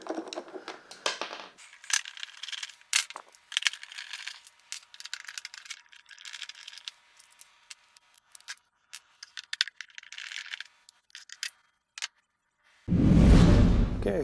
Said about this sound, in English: So we'll take those 5 out